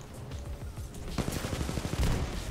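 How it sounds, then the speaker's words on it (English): An arc grenade goes off in a video game firefight: a sharp, loud burst rises out of dense, rapid gunfire that keeps rattling throughout. "Was that an arc grenade?"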